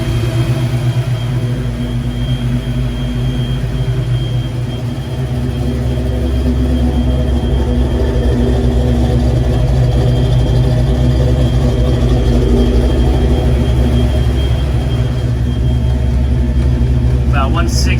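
A race car engine runs at a steady idle while its radiator fans whir, producing a continuous loud low rumble and hum that holds level throughout.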